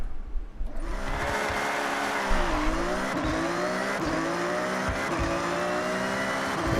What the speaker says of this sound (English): Great sound in the car.